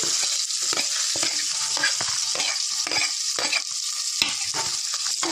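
Onions frying in hot oil, stirred with repeated scraping strokes over a constant bright sizzle, close up with no talking.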